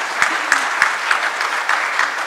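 An audience applauds at a 90th birthday celebration, steady dense clapping from a sizeable crowd, close and fairly loud throughout.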